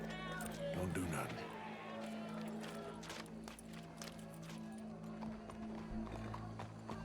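Horse hooves clip-clop in a steady galloping rhythm in the Red Dead Redemption 2 video game, moderately close, under a constant droning game soundscape with voices talking over it.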